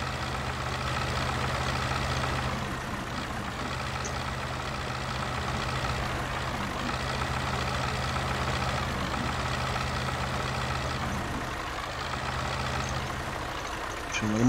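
A JCB 4CX backhoe tractor in the Spin Tires video game idles with a steady, droning diesel engine hum, continuous and fairly loud throughout, with a slight rise at the very end.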